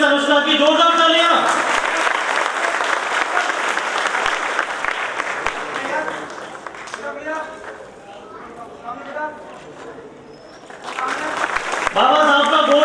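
Applause rises from the audience at a Dr. Ambedkar Jayanti award ceremony as a first-rank student is honoured, a crowd of clapping hands heard around and beneath an amplified announcer's voice, thinning in the middle before swelling again.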